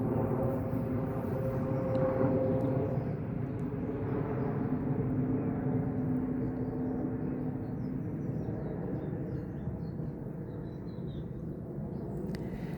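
An aeroplane passes overhead, heard as a steady, broad engine roar that holds evenly for several seconds and slowly eases, with no talking over it.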